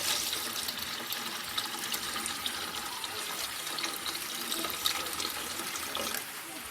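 Water pours steadily into a pot of rice being readied for cooking, giving a continuous splashing stream at close range with no voices.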